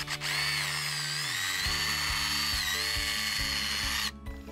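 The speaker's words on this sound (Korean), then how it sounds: "이거 교반기예요. 이거 하나로 다 돼요." A cordless 20V hammer drill fitted with a mixing paddle whirs steadily as it stirs mortar. A continuous high motor whine runs with a slight change in pitch partway, then cuts off abruptly near the end.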